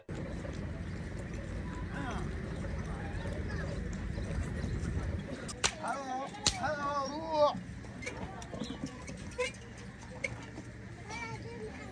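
Clip-clop of donkey hooves pulling a cart in Gaza, steady and fairly close in the first half, then joined by busy street noise with children's voices and brief whinny-like calls.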